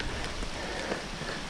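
Rain falls steadily on a wet mountain bike trail at Monte Sano Land Trust, a dense, even hiss of drops heard up close with no talk.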